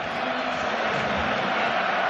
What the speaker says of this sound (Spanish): Ovación grande.